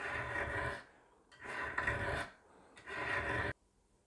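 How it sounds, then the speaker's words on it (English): Hand filing of rust from the edge of an antique scissor blade held in a vise, heard as three close, rasping scrape strokes of about a second each, separated by short pauses, with no talk. "Removing all that rust from the edge of the scissor blade."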